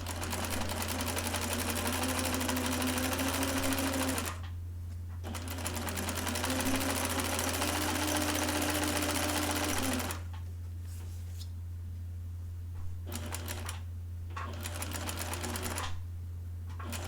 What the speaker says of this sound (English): And again, stitching in the ditch.